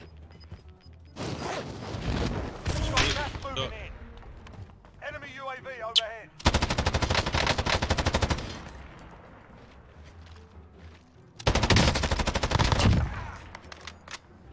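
Automatic gunfire rattles in Warzone in three loud, dense bursts separated by quieter stretches, with a player talking near the start.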